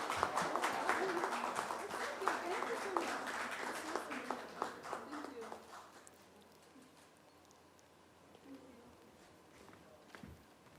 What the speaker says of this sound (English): Ladies and gentlemen, please put our hands together for this show.